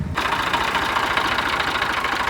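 A tractor engine runs steadily on a farm field, a loud, continuous mid-range drone with a rough knocking chug and no breaks.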